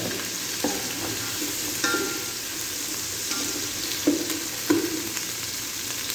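Ginger sizzles and frys steadily in a pan with garlic and onion, a continuous close crackle with occasional louder pops and stirring clatters, no talking.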